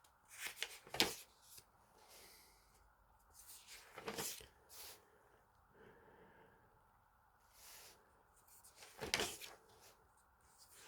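Pages of Christmas toy catalogues from 1979 to 1984 are flipped by hand, a few sharp paper swishes and rustles spaced several seconds apart in a quiet room, with soft breathing between them.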